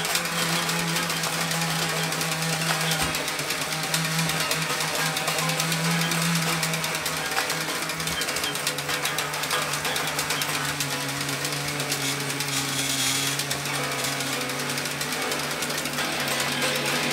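An exercise bike modified into a 240-volt generator is pedaled, giving a steady, loud mechanical drone with rattling and a low hum that runs without a break.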